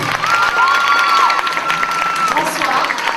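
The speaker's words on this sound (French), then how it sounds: "Je vous demande encore de l'applaudir." Audience applause and cheering fill an indoor pool hall after a synchronized swimming show, a loud and dense clatter of clapping that holds steady for the whole stretch, with some voices mixed in.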